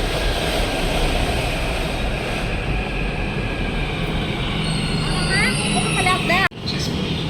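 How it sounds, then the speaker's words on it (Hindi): A metro train ride heard from inside the car: a steady loud rumble of wheels and motor running throughout, with a brief dropout near the end. "बट मैं जैसे ही पहुँची वैसे ही मेट्रो आ गई है"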